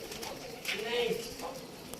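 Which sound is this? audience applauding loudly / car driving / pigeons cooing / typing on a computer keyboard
pigeons cooing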